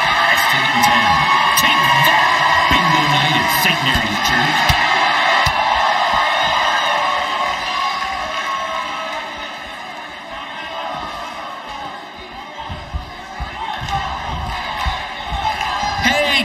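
Arena crowd in the WWE 2K19 wrestling video game, a steady roar of cheering and yelling that swells and dips, with occasional whoops, sustained throughout under a talking voice.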